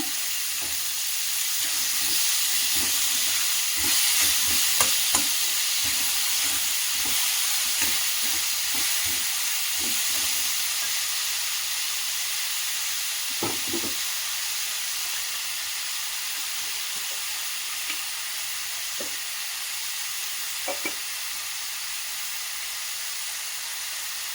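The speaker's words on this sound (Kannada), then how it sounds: "ಸ್ವಲ್ಪ ಫ್ರೈ ಮಾಡ್ಕೊತಿದ್ದೀನಿ ಆಮೇಲೆ ಟೊಮೆಟೊವನ್ನು ಹಾಕೋಣ" Okra and onion frying in a pan for a Karnataka-style bhindi palya, giving a steady, loud, continuous sizzle with occasional stirring clicks and no talk.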